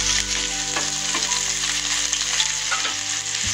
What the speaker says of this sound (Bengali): কড়াইতে দিয়েছি 2 চামচ সর্ষের তেল। প্রথমেই আমি পেঁয়াজ কুচনো দিয়েছি একটা